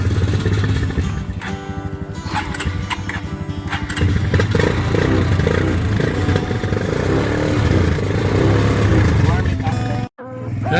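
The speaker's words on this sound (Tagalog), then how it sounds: "This is driving a motorcycle." Motorcycle being ridden, its engine droning steadily and loudly up close with clatter and wind buffeting, briefly cutting out near the end.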